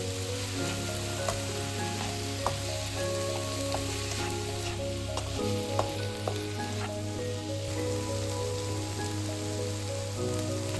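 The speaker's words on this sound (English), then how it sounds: "Isn't the sound of everything simmering so comforting, you guys?" Lentil soup simmering and sizzling in a pot, a steady close bubbling crackle with scattered pops and small stirring clicks throughout, no voices.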